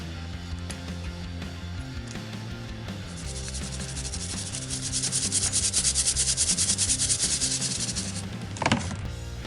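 A dental pick scrapes gook and grime out of the insides of a large auto wrench, making a steady, close rasping scrape that grows louder and more insistent midway, ending in a brief sharper scratch.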